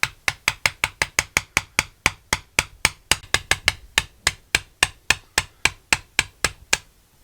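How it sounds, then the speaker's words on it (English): Sharp metallic hammer taps ring out in a fast, steady series of about thirty strikes, tapping a part out of a Husqvarna 562xp chainsaw engine, close and crisp, with brief pauses between some blows. "I'm take my hammer and see if I can tap it out of there"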